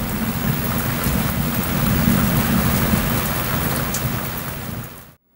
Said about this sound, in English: Well, it is still raining outside.